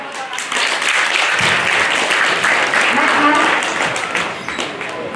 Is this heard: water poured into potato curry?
no